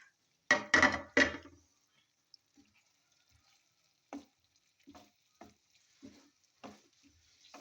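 Half-fried eggplant for a Pakistani yogurt side dish hisses in a pan with a few sharp bursts at first, then scattered soft stirring scrapes and short sizzles over near silence.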